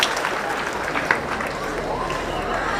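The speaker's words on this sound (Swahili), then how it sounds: "kuja tuombe ndio makofi tafadhali anapokuja" Audience at a students' career fair in Kiharu claps steadily, a dense wash of applause close and continuous, with voices mixed in.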